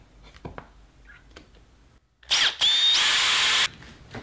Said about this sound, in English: just put your drill bit through there and pop it in your hole